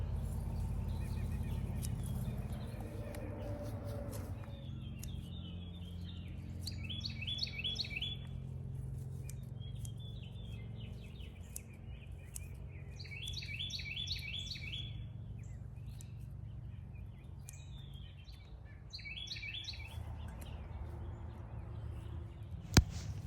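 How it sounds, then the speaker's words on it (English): Small birds chirp in repeated bright bursts in a raised-bed garden over a steady low rumble outdoors, fairly faint and at a distance. "Listen to those birds."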